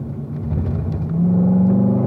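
Race car engine at Spring Mountain after a downshift to third gear, a close, rough, rumbling drone that firms up and rises as throttle opens, steady and loud with no voices.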